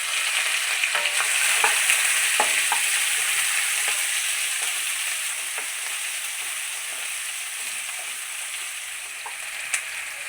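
Thinly sliced onions frying with urad dal in hot oil for wheat rava upma, giving a loud, continuous close-up sizzle with scattered crackles and faint stirring scrapes throughout, and no voices.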